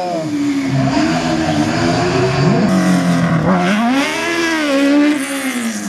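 A race car launches at the start of a slalom run at the Saint-Lô 2018 event. Its engine revs hard and climbs through the gears, loud and close, with a brief tyre chirp, and the pitch swings up and down as it accelerates away.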